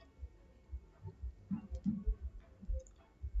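Faint mouse clicks on a computer, a few light taps over a low background hum, quiet and close.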